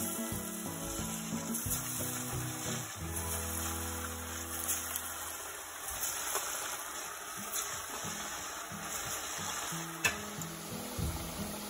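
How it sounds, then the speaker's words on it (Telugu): Carrot bread vadas fry in hot oil with a steady, moderately loud sizzling hiss that runs throughout, with low tonal background sounds underneath. "ఇప్పుడు దీన్ని ఆయిల్లో ఫ్రై చేద్దాం."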